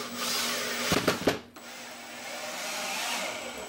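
Power drill driving screws into the end cleat of a migratory beehive cover, a loud close whine with a few short bursts, then a steady motor hum, no talking.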